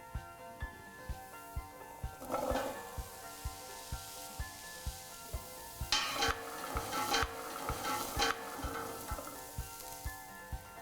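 Peeled, chopped carrots go into a pot of softened onions for a Chinese soup. A soft, steady sizzle runs underneath, with regular light taps and a few louder scraping stirs, and a faint rhythmic ticking throughout.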